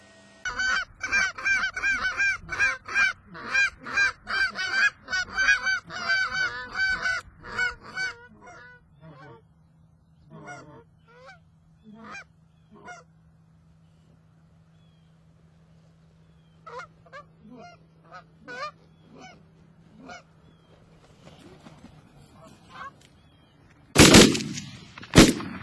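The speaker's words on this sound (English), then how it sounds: "watch those geese decoy right in." A flock of geese honks loudly as they decoy in, rapid overlapping calls at first that thin into scattered honks with a low steady hum, ending in a sharp loud burst.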